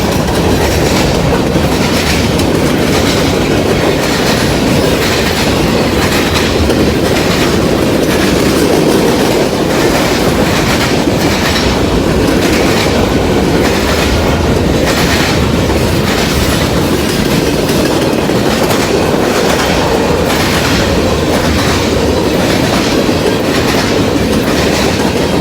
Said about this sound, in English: I believe that's the Lima train.